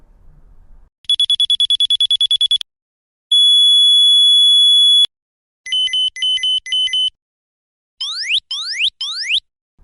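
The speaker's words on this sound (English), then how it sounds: "With the LR series, the alarm sits on top, so it's easy for you to hear it 360 degrees." Patlite LR series signal tower alarm running through sample tones: a rapid beeping burst, a long steady tone, a set of evenly spaced pulses, then quick rising chirps, all clean and electronic with silence between patterns.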